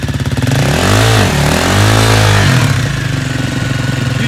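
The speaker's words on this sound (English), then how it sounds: "Give it gas and spin." A quad bike engine revs hard while spinning donuts on an icy surface during an ice storm, loud and close throughout with rising and falling pitch as the throttle is worked.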